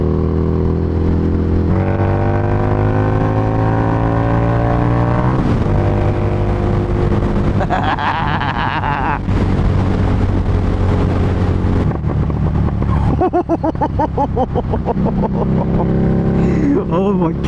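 A Harley-Davidson Street Rod 750 motorcycle engine heard while riding, loud and close, rising and falling in pitch through several gear changes, with wind noise over the microphone throughout.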